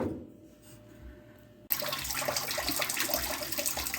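Coolant water gushing from an open engine bolt hole on a 1976 Dodge D100 into a drain pan below, starting abruptly after a quiet moment and then pouring steadily and loudly close by.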